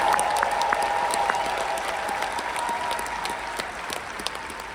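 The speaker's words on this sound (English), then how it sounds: "Somebody clap your hands if you believe that." An audience claps steadily and continuously in a hall, a dense even wash of applause that holds its level throughout, with no voices standing out.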